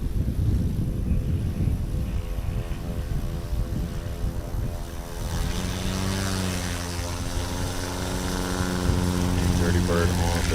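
A STOL airplane's propeller engine roars during its takeoff roll at a STOL competition in Hartford, Wisconsin, loud and close, rising into a steady droning pitch partway through, with people talking over it.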